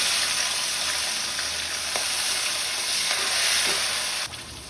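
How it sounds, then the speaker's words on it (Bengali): Chopped lafa (mallow greens) fry in hot oil with a steady, close, even sizzling hiss and occasional faint stirring clicks, with no voices. "লাফাগুলো আমার সুন্দর ভাজা হয়ে গেছে"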